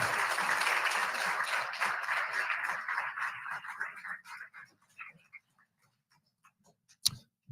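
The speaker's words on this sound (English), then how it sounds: "give them a round of applause" Audience at a shipwreck memorial applauding veterans, a dense round of clapping that thins out and fades into scattered claps and near silence, with one sharp close tap near the end.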